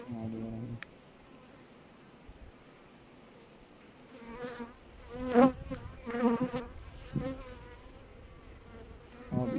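Carniolan honey bees buzz around an opened hive, a faint steady hum that swells into louder, nearby passes as individual bees fly close, with no talking.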